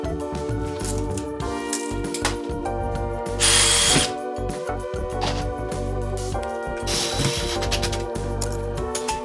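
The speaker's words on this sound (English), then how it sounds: "We locate the studs in the wall so every screw hits solid framing behind the drywall." Power drill driving screws through drywall into wall studs while IKEA kitchen cabinets are hung, a steady close whir running throughout with brief louder bursts as screws bite.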